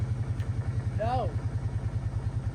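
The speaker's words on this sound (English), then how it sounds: "We're going to go on the four-wheeler here, and hopefully she starts." A four-wheeler ATV engine idles with a steady low, pulsing chug, fairly close, while a brief rising whine cuts in partway through.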